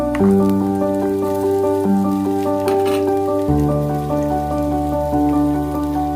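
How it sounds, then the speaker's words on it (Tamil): Urad dal and chana dal fry in oil over a slow fire, a soft continuous sizzle and crackle heard beneath prominent melodic background music, with no speech. "உளுத்தம்பருப்பு கடலைப்பருப்பு ஸ்லோ ஃபயரில் கொஞ்சம் பொன்னிறமாக வதக்கணும்"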